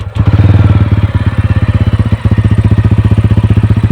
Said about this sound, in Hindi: तो चलिए अब आपको मैं गाड़ी का एग्जॉस्ट सुना देता हूँ, साइलेंसर की आवाज़।